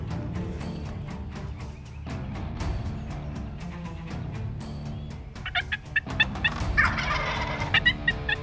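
Wild turkeys gobble repeatedly during a hunt, distinct calls in a steady series over a low background hum, with a louder cluster of gobbles near the end.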